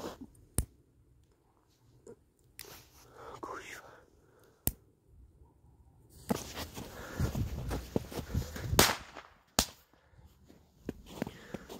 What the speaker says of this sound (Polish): No tu mam jeszcze petardkę, kolejną na draskę.